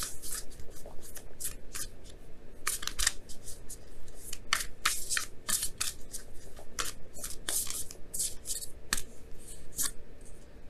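Oracle cards being shuffled and drawn from a deck, a run of crisp papery flicks and rubs in uneven bursts, close and clear with no talk.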